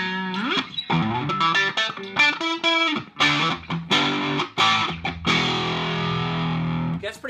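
Electric guitar played through a modded Boss DS-1 distortion pedal set to its rat side, heavily distorted chords and single-note riffs with slides and sustained ringing notes, loud and alone.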